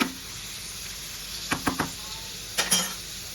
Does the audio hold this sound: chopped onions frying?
yes